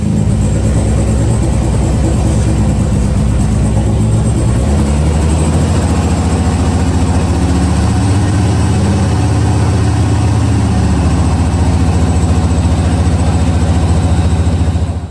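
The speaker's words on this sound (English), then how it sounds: "the little Renault 5 burst into life properly for the first time in many years" A Renault 5 GT Turbo engine, revived after years off the road, runs and idles loudly and steadily close by, with a continuous low mechanical drone and slight unevenness throughout, no voices heard.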